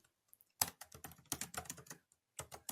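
Short burst of typing on a computer keyboard, a quick cluster of close, crisp key clicks, a brief pause, then a few more strokes, with no voices.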